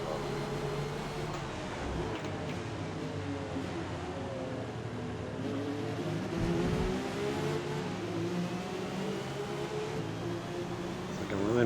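Engine of a 1975 BMW 3.0 CSL race car at Brands Hatch in Forza Motorsport, droning steadily and rising in pitch as the throttle opens, with a voice talking over it.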